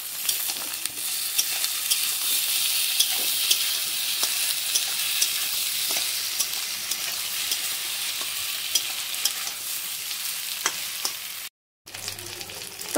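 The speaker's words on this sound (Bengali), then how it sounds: "এবার আমি আদা রসুনটা দিয়ে দিচ্ছি, আদা রসুনটা দিয়েও ভালো করে একটু ভেজে নেবো" Eggplant frying with ginger-garlic paste in a hot pan for an eggplant curry, a steady dense sizzle with occasional stirring clicks, continuous and close, broken by a brief silent gap near the end.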